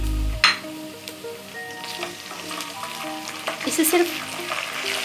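Garlic-ginger paste with cumin seeds sizzles and fries in hot oil for matar pulao, a steady close crackle with occasional stirring clinks, and a brief voice speaks over it near the start.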